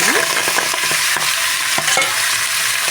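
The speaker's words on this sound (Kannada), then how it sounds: "ಈ ಮಟನ್ ಹಾಕಿ ಚೆನ್ನಾಗಿ ಫ್ರೈ ಮಾಡ್ಕೊಳ್ಳೋಣ" Mutton sizzling loudly in hot oil inside a pressure cooker, with a steady broadband hiss and several sharp scraping clicks as a spoon stirs the meat, close up and without speech.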